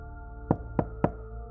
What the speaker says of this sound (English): He walked down the quiet hallway to room 424 and knocked.